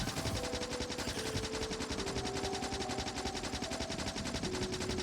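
Rapid, continuous automatic gunfire from the video game Factorio, a steady machine-gun rattle without pause, with tonal game sounds drifting underneath.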